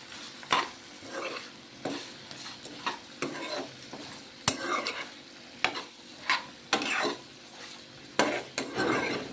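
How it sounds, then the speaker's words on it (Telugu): Mutton curry with turmeric and fenugreek leaves being stirred in a pan, a series of scraping spoon strokes and clinks over a soft sizzle, close and fairly loud, without talk. "ఇప్పుడు దీంట్లో పసుపు కల్లుపండి ఇవి కూడా వేసి కలుపుకుందాము"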